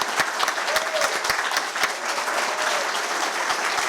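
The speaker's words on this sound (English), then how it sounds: "I think you need another round of applause." Audience at a water district board of directors meeting gives a round of applause, steady dense clapping of a moderate crowd lasting the whole stretch, close and loud with no talk over it.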